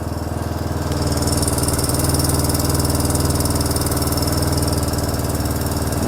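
A motorcycle with an electric starter idles steadily and close up, a continuous low, even engine chug with no voices over it.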